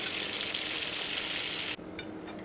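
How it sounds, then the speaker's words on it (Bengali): Chicken pieces fry in hot oil in a frying pan, a steady dense sizzle that fills most of the moment before cutting away abruptly to near quiet with a few faint crackles. "আমার মুরগির মাংসটা আস্তে আস্তে ফ্রাই করা হয়ে যাইতেছে"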